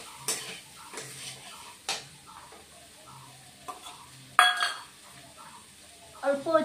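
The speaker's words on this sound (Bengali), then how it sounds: "এবার দিয়ে একটু কষিয়ে নেব।" Spices for a fish curry sizzle softly in a pan while a metal utensil scrapes and clinks against it in irregular strokes, with a few sharper knocks of the spoon on the rim.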